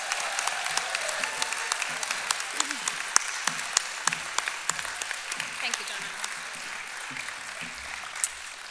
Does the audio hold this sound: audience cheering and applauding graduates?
yes